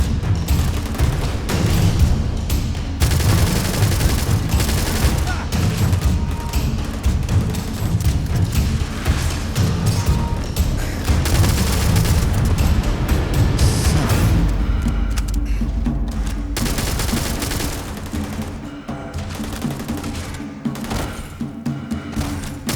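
Grenade explosions and gunfire in the video game Starfield: dense rumbling blasts and rapid bursts of shots run almost continuously, loud and close, easing into lighter scattered fire near the end.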